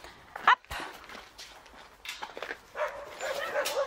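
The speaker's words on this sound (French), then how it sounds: "On va aller voir le parc des chiens en espérant qu'ils aboient pas trop" Dogs in a dog park give a few sharp, short barks and yips with some whimpering. The calls come at moderate distance over quiet outdoor background, with faint movement noises in between.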